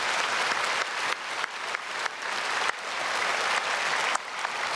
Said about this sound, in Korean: 우리 크게 박수로 축복하겠습니다.